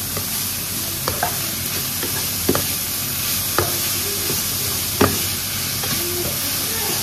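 Minced beef sautés in a pan with onion and garlic, giving a steady sizzle broken by a few sharp scrapes and clacks of the stirring utensil.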